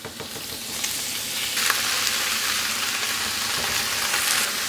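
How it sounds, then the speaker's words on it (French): Pieces of beef for bourguignon hit hot oil that is not yet smoking and sizzle steadily as they brown, a loud continuous crackling fry with brief bursts of spatter, no voices. "On y va, on met le bourguignon à colorer."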